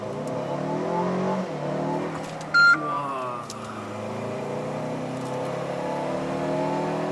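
A Mercedes-Benz GLA or GLB SUV with a variable exhaust revs and accelerates steadily, its pitch climbing through the gears, with a brief beep partway through.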